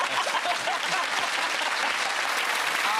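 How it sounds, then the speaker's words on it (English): Studio audience at a comedy panel show claps in a dense, sustained burst of applause, loud and even throughout, with a voice briefly audible beneath it. "Give that round of applause for Milton,"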